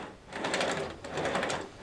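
Wheels of a G gauge train tender rolling smoothly along the track: a close, soft, even rumbling whir in two steady swells, with no talking.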